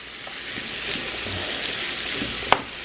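Food sizzling in a pan with green onion, stirred at close range: a steady frying hiss with soft scrapes and one sharp clink of utensil on pan.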